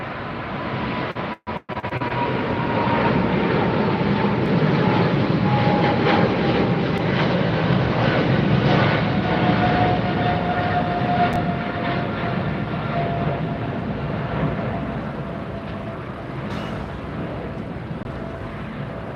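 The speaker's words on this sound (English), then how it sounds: "No, we have the British Airways headed out first." A British Airways Boeing 777 departs LAX, its engines producing a loud, steady broadband roar with a whining tone that holds close by for the whole stretch, with only a brief dip near the start.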